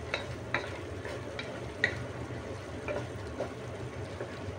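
Toppings for pansit Malabon are sautéed in a pan, giving a continuous sizzle broken by a few scraping stirs and light clinks of a utensil, with no voices.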